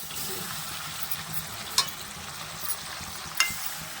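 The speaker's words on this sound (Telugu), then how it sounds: "సో ఇప్పుడైతే మనం చికెన్ వేసేసుకుంటున్నాము గ్రీన్ చికెన్ కోసము." Chicken pieces fry in oil and a knob of butter in a kadai for green chicken curry, giving a steady hiss of sizzling with a few sharp pops and scrapes of stirring.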